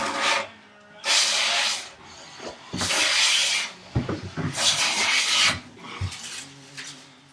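Hand plane drawn across a wooden workbench top during flattening, several long rasping strokes in bursts, with a knot interrupting a clean shaving; close and fairly loud, with quiet knocks between strokes.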